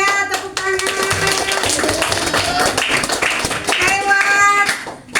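Hands clap in quick, sharp taps in a classroom setting, a short run of applause with voices talking over it throughout.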